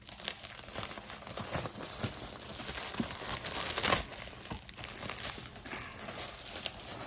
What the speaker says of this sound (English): And I'm pretty sure at this point we just kind of rip it.